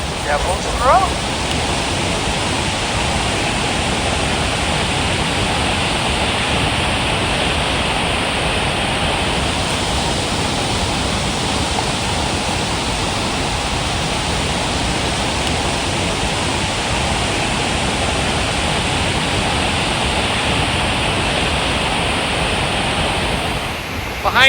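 Iguazu Falls roaring at Devil's Throat, where more than 20 separate waterfalls plunge together, producing a loud, steady, unbroken wash of rushing water that fills the whole stretch.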